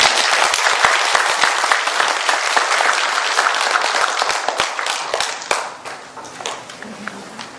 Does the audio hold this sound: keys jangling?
no